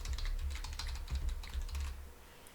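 A username and password are typed on a computer keyboard: quick, soft, close key clicks in a steady run for a couple of seconds, with no talking.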